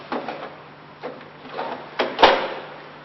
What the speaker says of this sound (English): Now she'll remove this bottom drawer and take out the tray that holds the used coffee grounds and throw them away.